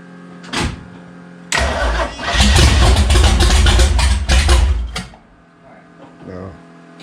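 A 1955 or 1961 Pontiac with wiring being repaired, its electric fuel pump switched on, then the engine cranks and briefly fires into a loud rough run for a few seconds before dying away, with people talking nearby.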